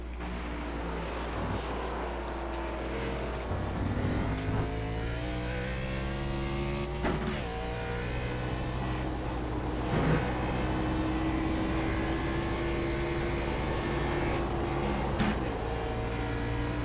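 Race car engine at Watkins Glen in a sim racing series, droning steadily close by with pitch climbing through upshifts and dropping on downshifts across the whole stretch.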